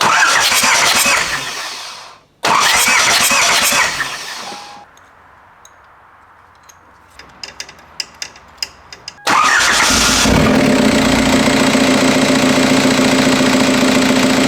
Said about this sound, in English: Let's crank it over real quick, get the fuel blowing out of there, and then we'll fire it up